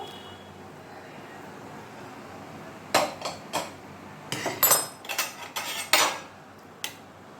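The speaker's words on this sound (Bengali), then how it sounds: "আমি যেই থালে মাছ ভেজে রেখেছিলাম আমি সেই থালেতে নামাচ্ছি ঝোলটা" Tangra fish curry scooped from a pot onto a plate, metal spoon clinks and scrapes against cookware in an irregular cluster of sharp knocks after a quiet start.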